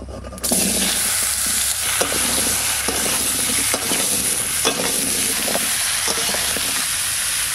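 Pumpkin pieces hit hot oil seasoned with cumin and bay leaf, bursting into a loud, steady sizzle that carries on close by, with occasional clinks and scrapes of stirring.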